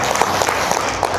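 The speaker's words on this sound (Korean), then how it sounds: "예, 박수 한번 쳐주세요." An audience at a lecture applauds briefly, producing a dense, steady patter of many hands clapping at close range with no voices over it.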